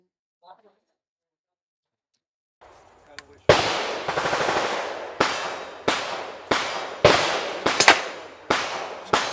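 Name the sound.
suppressed 300 Blackout rifle shots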